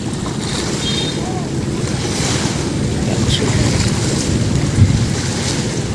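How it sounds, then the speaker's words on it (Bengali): Wake waves from a big ship on the Hooghly river rolling in toward a ghat: a loud, continuous washing surge mixed with wind buffeting the microphone, while a voice talks over it. "এই ঢেউ শুরু হয়ে গেছে, ঢেউ শুরু হয়ে গেছে, এর থেকে বেশি ঢেউ আসবে"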